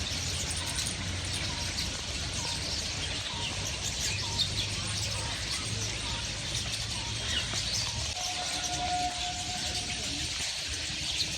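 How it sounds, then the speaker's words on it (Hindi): Morning birds chirping outdoors in India, scattered tweets and calls over a steady hiss of background ambience, moderately faint, with a longer whistled note near the end. "सुबह सुबह गाइस देखिए चिड़ियों की चहचहाट सुनिए।"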